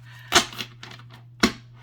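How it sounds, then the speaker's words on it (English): Tarot cards being shuffled by hand, a few crisp riffling snaps and slides close by, two louder bursts with softer rustles between, over a faint hum. "I'm just really enjoying shuffling these cards"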